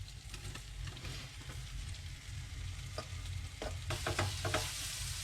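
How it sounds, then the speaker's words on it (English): Beef heart and liver pan frying in oil and butter, a steady close sizzle with occasional stirring scrapes and spatters that grow busier toward the end, no talk. "we're gonna pan fry this quickly, around 2-3 minutes, like that"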